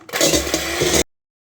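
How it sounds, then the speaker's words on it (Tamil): An electric mixer whirs steadily close by for about a second while it beats four eggs in a bowl for plum cake, then stops abruptly into silence. "ஸோ நான் ஒரு பவுலில் 4 முட்டை போட்டுக்கிறேன். இப்போ இது ஒரு 10 மினிட்ஸ்க்கு நல்லா பீட் பண்ணிக்கலாம்."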